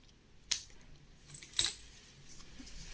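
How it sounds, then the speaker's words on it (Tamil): Indian rupee coins, among them a 10-rupee coin, clink sharply when handled, giving two bright metallic chinks about a second apart before a quiet hush. "இது ஒரு 10 ரூபா காயின், மகாத்மா காந்தி தான் நினைக்கிறேன்."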